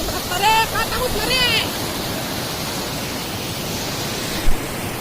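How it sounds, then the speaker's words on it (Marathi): Heavy monsoon rainwater rushing down a waterfall, a steady loud roar of broadband noise, with a voice speaking briefly over it at the start. "आवाज येतोय का पाण्याचा फुल धबधबा आहे धबधबा"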